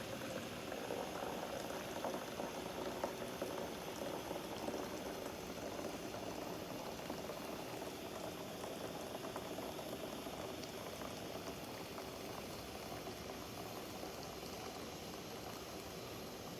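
Water flows steadily into a French press coffee maker, making an unbroken bubbling, rushing liquid sound for the whole stretch without any talk.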